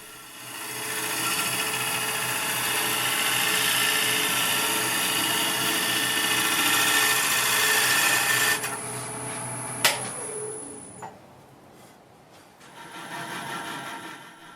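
Green wood bowl blank spins on a wood lathe, a steady loud scraping and hissing of the tool cutting for about nine seconds, then a sharp knock and the cutting stops, leaving quieter hum and brief rubbing.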